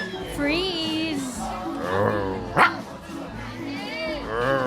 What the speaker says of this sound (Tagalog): Mukhang mabagsik yung aso.